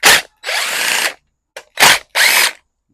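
A ratchet backs out T30 Torx screws on a John Deere JX75 mower, giving five short, sharp bursts of clicking close by, separated by brief silences.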